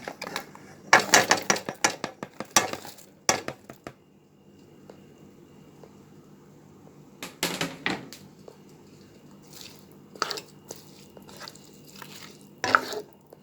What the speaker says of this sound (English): Stir that up a little.